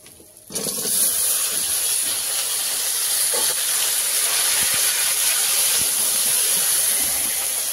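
Taro pieces drop into hot oil, setting off a sudden loud hissing sizzle that stays strong and constant afterward, with no voices.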